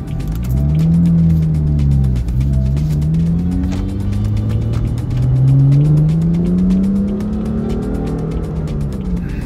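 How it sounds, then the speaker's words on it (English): A BMW M4's exhaust revs loud and close, the engine note rising and falling through several throttle blips over steady droning, with no one talking. "Alright, we hear the exhaust, good."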